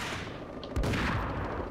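Ingram submachine gun fire in the Max Payne video game: a sharp burst of shots ringing out around the middle, followed by a rumbling decay over steady game ambience.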